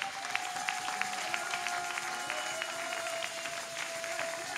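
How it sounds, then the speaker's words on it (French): Congregation in church applauding for the Lord, a fairly quiet, steady patter of clapping with a faint sustained tone beneath and scattered louder claps. "Acclamons pour le Seigneur, bien-aimé"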